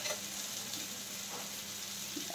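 Filling for stuffed kakrol (spiny gourd) frying in a pan, a steady broad hiss of oil that continues without break, with faint stirring scrapes here and there.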